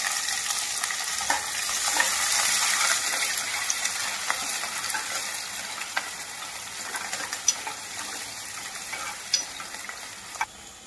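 Onions, green chillies and curry leaves frying in hot oil, a steady loud sizzle with occasional stirring clinks, close by and with no talking.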